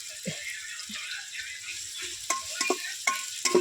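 Onions and curry leaves sautéing in a pan for a Tamil non-veg meal: a steady broadband sizzle, with scattered clinks and scrapes of a ladle stirring close by and no talk.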